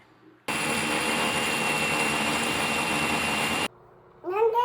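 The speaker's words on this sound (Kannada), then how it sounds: "ಫಸ್ಟ್ ಇವಾಗ ಇದನ್ನು ಮಿಕ್ಸಿ ಜಾರ್ಗೆ ಹಾಕಿ ಪುಡಿ ಮಾಡ್ಕೊಳ್ಳೋಣ" A mixer grinder grinding gram and rice flour in its jar roars loudly for about three seconds, then cuts off abruptly, followed by a brief voice.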